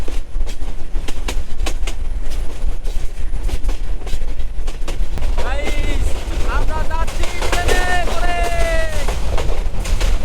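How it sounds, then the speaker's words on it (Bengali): Onboard the Teesta Express as it pulls out of Joydebpur Junction in Bangladesh, a steady loud rumble and rhythmic rail clatter run throughout, with voices rising over the noise partway through. "তারপর আবার ট্রেন ছেড়ে দিছে"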